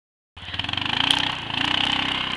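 A Kawasaki 4x4 ATV engine starts up suddenly and revs with a rapid, pulsing throb while knocking down small trees, loud and close for a couple of seconds.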